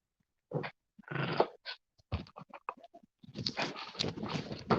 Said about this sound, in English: My dog is trying to play.